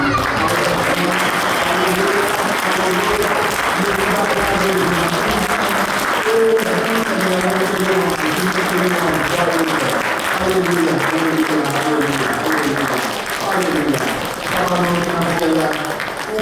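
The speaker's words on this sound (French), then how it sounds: "du Seigneur, nous allons acclamer" A church congregation applauding during a Sunday worship service, sustained rhythmic clapping mixed with voices singing and praising over the whole stretch.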